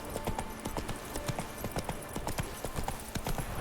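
Roach the horse gallops in The Witcher 3, with rapid rhythmic hoofbeats clip-clopping steadily and close over a dense game background.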